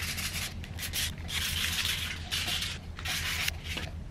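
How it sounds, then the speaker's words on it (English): Sandpaper rubbed back and forth on the back of a plastic key switch part for an EZGO RXV golf cart, a close, continuous scratchy sanding in rhythmic strokes with a low hum underneath. "I want to get it nice and sanded here, so it'll bite to this section here once we go to put them together."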